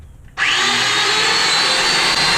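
A Festool Domino DF 500 joiner switches on after a moment of quiet, its motor spinning up quickly into a loud, steady, high-pitched whine that holds close and constant.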